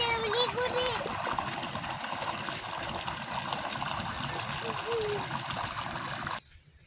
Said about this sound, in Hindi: ट्यूबवेल है, ट्यूबवेल चल रहा है और इसमें देखें कितना प्यारा पानी है